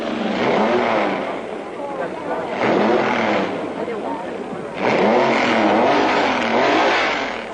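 Ferrari and Alfa Romeo race cars at the Spanish Grand Prix roar past in loud surging waves of engine noise, revving up and fading as they streak by, with a voice talking over them.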